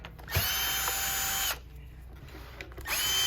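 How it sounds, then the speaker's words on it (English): A power driver with a T25 Torx bit backs screws out of a Miele vacuum power head in two close, whirring bursts separated by a short pause. "remove these two bottom screws"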